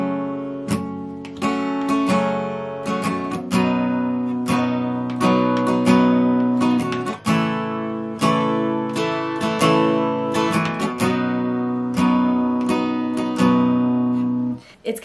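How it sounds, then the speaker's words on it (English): An acoustic guitar plays a steady strummed chord pattern for the verse of a song, with crisp down and up strokes in a regular rhythm, close and clear with no voice. "For the strumming pattern, for the verse, and for the whole song, it's gonna sound like this"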